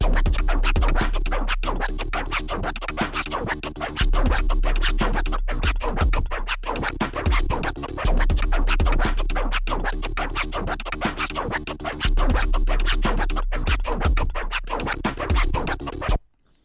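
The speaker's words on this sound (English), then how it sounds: "This is Autobahn scratch with 5 sounds" A DJ performs the Autobahn scratch on a turntable using five sounds: quick, dense scratches chopped in a looping rhythm over a booming low bass tone. Loud and close, no talking.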